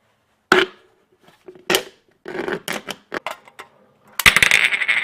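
Aluminum can being cut along a marked line for a DIY alcohol stove, with sharp separate snips and crunching metal clicks in irregular bursts, close and crisp against silence, with no talking.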